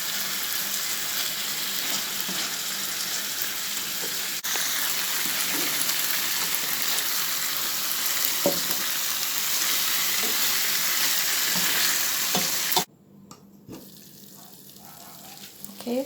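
Chicken sizzles and fries in curry in a pan, a loud, continuous crackling hiss with occasional stirring clicks, cut off near the end as the heat drops to a faint simmer.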